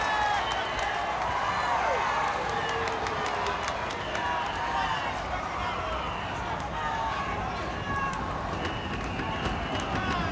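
A capacity arena crowd at a Hulk Hogan versus Andre wrestling match roars as a continuous, dense wash of cheering and clapping, with a commentator talking over it.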